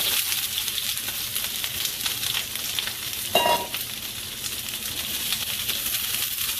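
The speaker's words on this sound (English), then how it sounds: "I'm going to saute these peppers and onions" Peppers and onions sautéing in oil in a pan, a steady, close sizzle and crackle throughout with a brief clink of a utensil midway.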